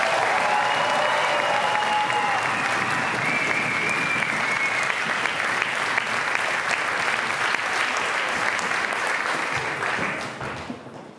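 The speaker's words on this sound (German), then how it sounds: "euer Applaus für die Beethoven-Schule." Sustained audience applause for a school performance at a children's festival, a dense steady clapping that fills the whole stretch and then fades at the end.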